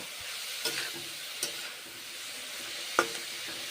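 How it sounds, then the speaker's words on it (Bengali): Cabbage, a winter vegetable, cooking in a pan as a vegetarian dish, giving a quiet, steady sizzle with a few soft clinks and stirring knocks spaced through the clip, no voices. "এইভাবে রান্না করছি বাঁধাকপি শীতের সবজি"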